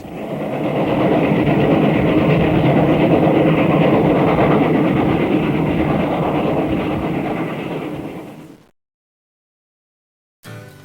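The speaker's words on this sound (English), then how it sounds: "Coming through is a Class K62 484 and E6A 280 double-headed freight." A double-headed Delaware & Hudson steam freight, a Class K-62 4-8-4 leading an E-6a 2-8-0, roars past loud and close with a dense rumble and clatter of cars, then cuts off abruptly into silence.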